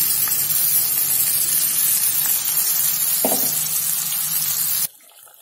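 Ground masala paste thinned with a little water hits a hot frying pan for a vegetable dish, giving a loud, continuous, crackling sizzle that cuts off abruptly near the end.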